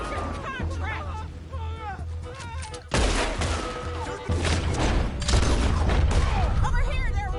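A chaotic Red Dead Redemption 2 shootout with bounty hunters, where rapid gunfire, booms and explosions pile up loudly over shouting voices and in-game chatter.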